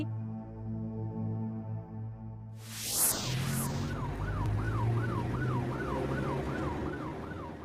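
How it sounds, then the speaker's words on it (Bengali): An ambulance siren wails in a rising and falling pattern over road noise on a bad road, arriving suddenly and continuing steadily, fairly close. "ওই তো অ্যাম্বুলেন্স গেল"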